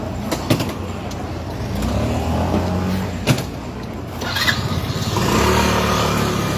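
A car engine runs steadily near a crowd at a celebrity event in Taiwan, with a brief rev, under crowd noise and nearby chatter.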